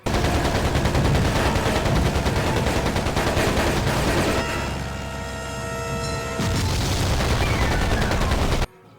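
Rapid gunfire and explosions from aerial combat in a PSP plane-fighting video game, a dense continuous barrage of shots and booms that softens briefly midway and then surges back, loud throughout with no talking.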